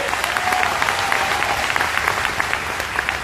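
A live audience at the Pehchan event in Vadodara breaks into loud, sustained applause, dense clapping filling the hall for a few seconds with no talk.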